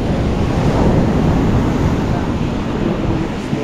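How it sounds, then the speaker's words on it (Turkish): Surf rolls in on a Bali beach, a dense, close roar of breaking ocean waves mixed with wind noise, steady for the whole stretch. "Yine dalgayı kollayacağım şimdi"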